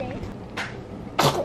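A single sharp sneeze bursts out near the microphone after a quieter vocal sound and some faint background noise.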